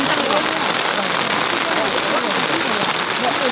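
Steady rain pattering on a tarp tent, a dense continuous hiss of drops on fabric, close and even in level throughout with no break.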